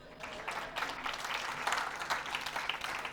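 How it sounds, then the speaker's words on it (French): A church congregation claps through a sermon, a moderate patter of scattered hands that holds steady for a few seconds. "Et des applaudissements."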